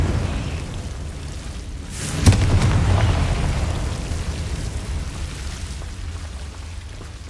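A Confringo blasting spell in Hogwarts Legacy lands with a sudden sharp explosion about two seconds in, followed by a rumbling, crackling tail that slowly fades into steady background hiss.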